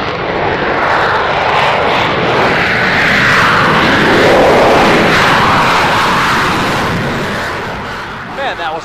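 An F-35 fighter jet roars past close by, a loud, steady engine rush that swells in the middle and then fades slightly.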